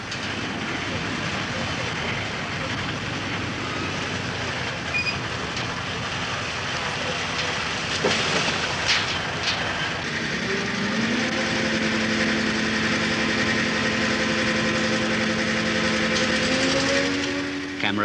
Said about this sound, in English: This is another floating bulldozer. Backward and forward movements are carried out with the craft's own winches.